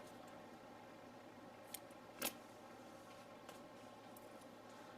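Scissors snipping paper at a desk while trimming a planner page: a few faint, isolated snips spaced over several seconds, the clearest in the middle, against a quiet room background.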